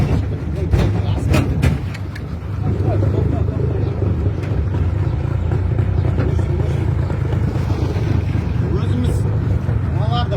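A motorboat moving through floodwater in a flooded village in Maktaaral district, a loud steady engine drone with wind buffeting the microphone, close, while people talk over it.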